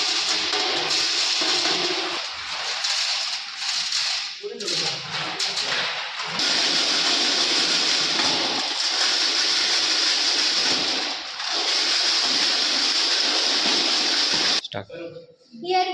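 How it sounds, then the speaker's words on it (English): Coarse aggregate is shaken through stacked 20 mm and 12.5 mm sieves in a lab, making a continuous loud gritty rattling rush that dips briefly a few times and stops abruptly near the end. "Now we are going to sieve the aggregates."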